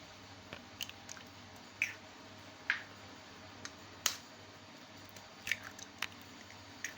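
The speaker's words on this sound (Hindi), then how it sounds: "सबसे पहले मेरे पास 3 अंडे हैं, इन्हें हम तोड़ के बाउल में डाल लेते हैं।" Three eggs cracked one after another into a bowl, giving a series of sharp, close shell cracks and small wet splats scattered over several seconds against a quiet kitchen background.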